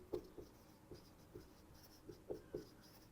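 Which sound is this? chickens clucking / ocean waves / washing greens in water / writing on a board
writing on a board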